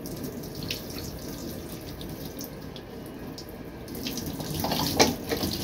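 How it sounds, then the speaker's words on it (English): Steady running water from a tap while hair is rinsed after bleaching and dyeing, a continuous even splashing flow that grows slightly louder and busier near the end, with no talking. "Right now, guys, I'm just rinsing it out. Just taking my time rinsing it out."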